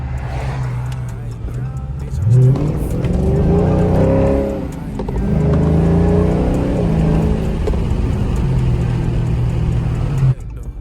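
A Dodge Scat Pack revving and accelerating along a back road in the rain, its engine loud and close as it climbs through gears, with someone talking over the drive.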